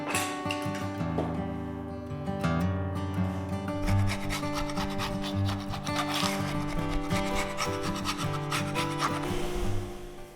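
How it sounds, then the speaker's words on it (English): Continuous rasping rub of an abrasive over hardwood as a scrap-wood end grain cutting board with a chaotic pattern is sanded smooth, a steady loud friction texture with fluctuating strokes throughout and no talking. "After I sanded both sides smooth"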